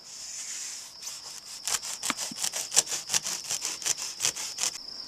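A multi-tool blade saws a slit down the length of a tube in a quick run of short, rasping back-and-forth strokes, close and clear with no talk.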